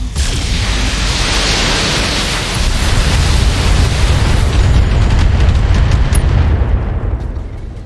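An enemy vehicle blowing up in the video game BattleTech, a loud, dense roaring blast that rumbles on for several seconds before slowly fading, with no speech over it.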